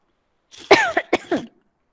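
A few quick coughs in a row, close and clear, followed by silence.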